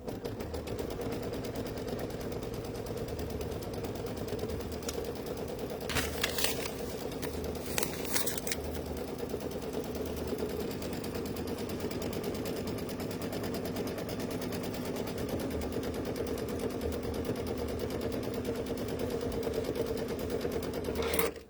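An embroidery machine stitches steadily to tack down fabric, a fast even mechanical chatter running close and constant throughout, with a couple of brief rustling bursts partway through.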